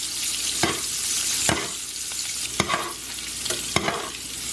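Salmon frying in browning butter with rosemary, thyme and garlic, a steady close sizzle broken by several sharp spoon-scrape clicks as the hot fat is basted over the fish at irregular intervals, no voices.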